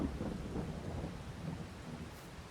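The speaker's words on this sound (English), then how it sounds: "see, it's just started to rain." Rain beginning to fall on a farm during corn harvest, a steady soft hiss of drops with low rumbling underneath, heard outdoors at a moderate, even level.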